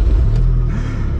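Honda Civic sleeper with a twin disc clutch pulling away, a loud, close, low engine rumble with a brief rising rev.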